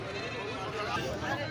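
Sheep bleat amid the steady hubbub of a crowded livestock market, with voices talking throughout.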